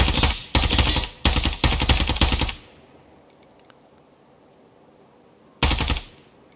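Automatic gunfire in the tactical shooter Ground Branch: four loud, dense bursts of rapid shots in the first two and a half seconds, then quiet ambience, then one more short burst near the end.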